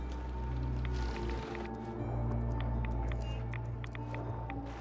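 Swimming through water in Fallout 4's Far Harbor, with steady sloshing and splashing over a constant low drone of background game ambience.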